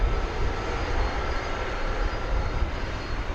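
An Airbus A321neo airliner of American Airlines powers up for takeoff on runway 18 left at Dallas Fort Worth airport, a steady, broad engine roar holding loud and even throughout with no voices.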